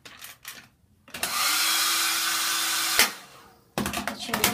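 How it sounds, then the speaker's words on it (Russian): A hotel room hair dryer in New York switches on with a loud, steady whoosh and hum for about two seconds, then cuts off, with faint handling noises before and after. "есть фен, смотрите"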